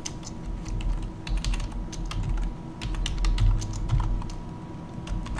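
Rapid clicking of computer keyboard keys as a file name is typed into a Word 2003 document, a steady close-up run of light taps with uneven rhythm and no voices.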